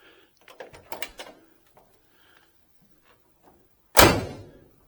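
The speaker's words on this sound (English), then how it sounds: "You'll notice the doors just snap shut," Door of a 1972 Oldsmobile Cutlass shutting with one sharp, solid close-up snap, preceded by a few faint handling clicks and rattles in an otherwise quiet space.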